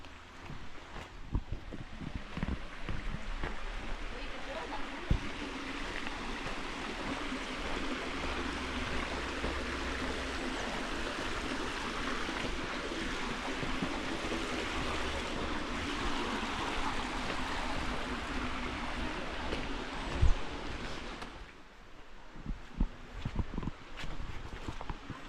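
A creek flows steadily along a rocky bluff in the woods, a continuous broadband wash of moving water with scattered footstep-like knocks and a couple of sharper clacks near the end as the rush briefly dips.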